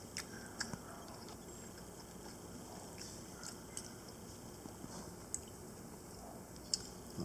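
Quiet, close-up chewing of smoked halal beef brisket from a Traeger smoker: soft, moist bites and small clicks scattered over faint background hiss, with no talking.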